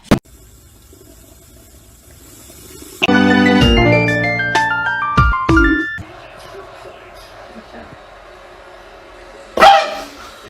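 A dog barks a few times in short bursts, loud and close, with musical tones and water-like sounds around it and a sharp noise near the end.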